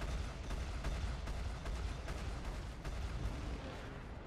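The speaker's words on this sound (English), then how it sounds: "Fire missile." Missile launch in the Star Citizen space game, a dense continuous roar of rumbling, explosive game audio with sharp bursts layered through, loud and steady throughout with no talking.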